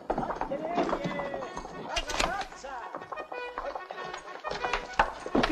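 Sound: horses riding off

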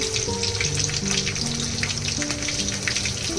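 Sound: mustard seeds frying in oil

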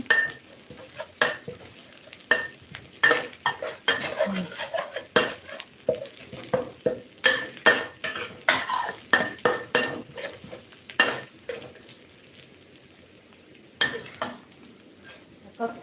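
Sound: stir-frying shallots and dried chilies in a pan

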